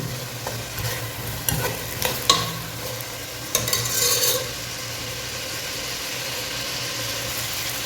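Boiled chicken for a biryani fries in a little oil with a low sizzle, broken by a few bursts of stirring and scraping in the pan early on before settling into steady frying, nearby and without talk.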